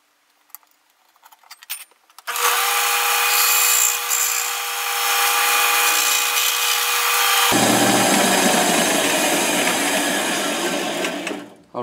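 A power tool cutting out the front of a wooden piece for a mechanical bank, a steady loud high-pitched whine that runs for several seconds and then drops into a rougher, fuller grinding tone after a few light clicks.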